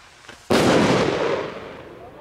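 A sharp, loud New Year's Eve rocket firework bursts nearby, followed by a crackling, hissing tail that slowly fades.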